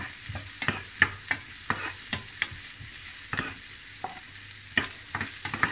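White onion sautés in a pan for a home-cooked cabbage and egg dish, a soft steady sizzle broken by repeated scraping stirs of a utensil against the pan, close up, with no talking.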